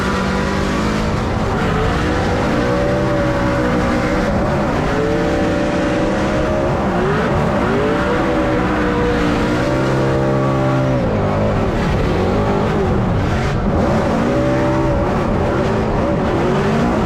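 Ford Mustang RTR drift car at Formula Drift Irwindale competition, a loud continuous engine roar with rising and falling revs across the run, mixed with tire squeal and crowd or track noise.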